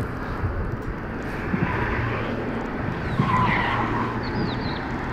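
Car tires squeal and skid under a loud, steady engine roar, with brief sharp chirps rising above the continuous road noise, from a BMW drifting.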